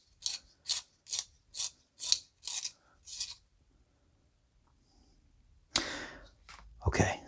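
Vintage Mirado Black Warrior pencil turned in a sharpener, giving seven short, evenly spaced rasping grinds, then a pause and a couple of louder scraping bursts, close and alone.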